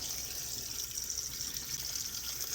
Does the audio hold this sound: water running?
yes